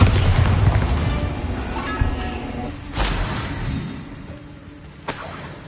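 Confringo and Bombarda blasting spells in Hogwarts Legacy hit with loud, close booms and shattering bursts, with fresh impacts near the two- and three-second marks and a lighter crack toward the end.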